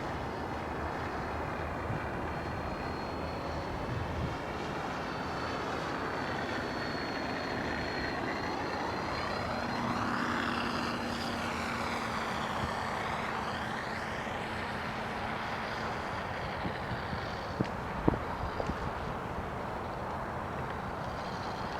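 A Freewing P51D Mustang RC model plane with a sound module gives a continuous droning engine hum in the open air, with a whine that rises and falls as it passes, and wind buffeting the microphone.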